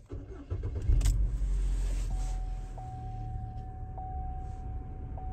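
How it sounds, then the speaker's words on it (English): A car engine cranks and catches near the one-second mark, then settles into a steady low idle with a faint repeating chime over it; the engine is started and warmed up ahead of a fuel pressure test. "first thing we're gonna do is start the vehicle and get it to operating temperature"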